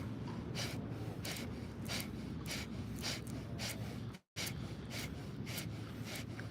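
Rapid, forceful exhales during a yoga breathing exercise: a steady train of sharp breathy puffs about every half second, close and fairly loud, with one brief silence partway through.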